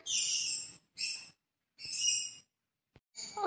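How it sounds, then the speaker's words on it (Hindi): Birds chirp in several bright, sustained bursts separated by short silences, clear and fairly close with nothing else around them. "कितनी चिड़िया चहक रही हैं देखो तो चू चू चू चू"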